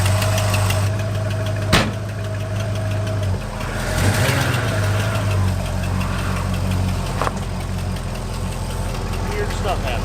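A 1960s Ford Galaxie engine with a header leak idles in a close, rough, steady rumble and a faint knock, while someone speaks briefly over it.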